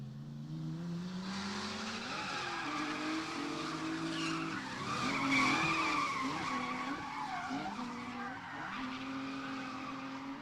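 An 88 or 89 Mustang and a G35 drifting together on a track, with sustained loud tire squeal rising and falling over droning engines, the screech swelling midway as the cars slide side by side.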